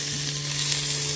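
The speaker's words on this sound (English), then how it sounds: "Ooh, you hear that sizzle?" Bearded Butcher Hollywood Blend seasoning sizzles on a hot Blackstone 17-inch griddle while hot dogs cook, a steady close crackling hiss.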